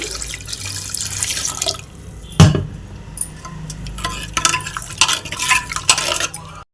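Water splashes and trickles into a pot of tamarind lentil soup, with a sharp clink of a vessel partway through and some stirring and dripping sounds after.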